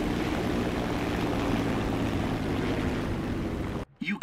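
An aircraft engine in War Thunder drones with a steady, loud propeller rumble and wind noise, then cuts off abruptly near the end, leaving brief quieter sounds.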